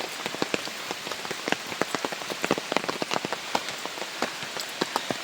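Rain falling outdoors on a long climb of 3003 steps, a steady wash of drops with sharper close patters spattering on nearby surfaces, no voices.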